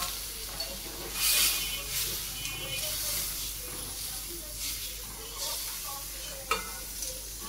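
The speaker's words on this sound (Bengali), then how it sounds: "5 ফোড়ন দিয়ে ডালটা ছোক দিয়ে নিয়েছি" Dal tempered with five-spice (panch phoron) sizzles quietly in a pot, a soft hissing crackle with a sharp burst early on and occasional clicks, under a faint voice.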